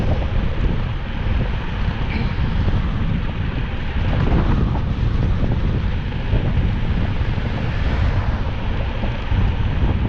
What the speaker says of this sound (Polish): wiatr we włosach.